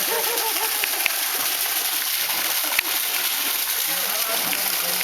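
Water splashes and sloshes continuously at a resort pool in Famy, Laguna, steady and close, with occasional sharper splashes and voices chattering over it.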